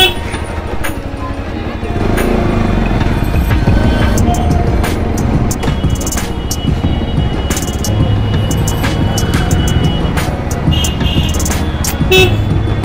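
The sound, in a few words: road traffic with car horns honking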